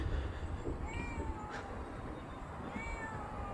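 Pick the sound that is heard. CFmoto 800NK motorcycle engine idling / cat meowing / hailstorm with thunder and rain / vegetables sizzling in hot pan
cat meowing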